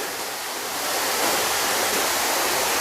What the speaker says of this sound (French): on est près de la chute d'eau